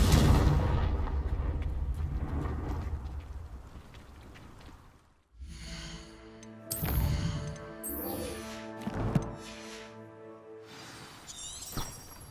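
Confringo blasting spell exploding in Hogwarts Legacy, a burst of crackling, shattering blasts with debris, followed by sharp spell impacts over layered game music.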